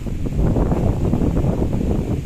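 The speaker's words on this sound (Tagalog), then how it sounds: "grabe hangin lakas" Strong monsoon wind gusting through banana plants, a steady loud roar with rustling and buffeting across the whole clip, no voices.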